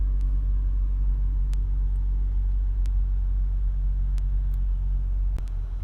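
A 2004 Honda Accord 2.4 i-VTEC Executive Tourer idling steadily, a low, even engine rumble close to the microphone with a few faint clicks over it and no voices.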